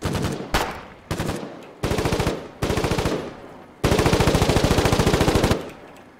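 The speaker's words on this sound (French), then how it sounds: "l'autre avec sa sulfateuse sur le toit, il se régale" Heavy machine gun, a 12.7 mm, firing from a rooftop in the war game Foxhole, loud close bursts of rapid rhythmic shots, several short strings and then one long sustained burst.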